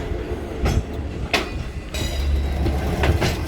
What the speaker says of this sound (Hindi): ये देखें ये है रहमान बाबा एक्सप्रेस, ये देखें रहमान बाबा। और ये 10 बजे चलती है कराची से पेशावर के लिए।